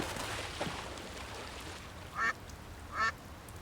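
Two short duck quacks from the Secret Files 2 game sound about a second apart, faint and a little distant, over a soft hiss of background ambience.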